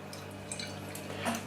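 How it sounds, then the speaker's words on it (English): Stewart Brewing's 8% Belgian abbey tripel pours from a bottle into a glass, a steady, lively trickle and fizz that runs evenly for the whole moment, close and fairly quiet. "Beer pouring out into the glass."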